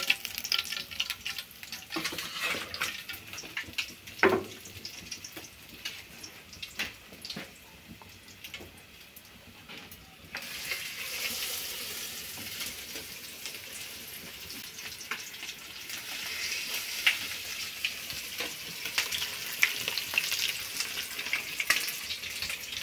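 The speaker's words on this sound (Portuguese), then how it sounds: "Eu vou terminar aqui de fritar o peixe." Fish frying in a pan for a home-cooked lunch on a rural smallholding, a steady close hiss and crackle of hot oil that swells louder midway, with no talking.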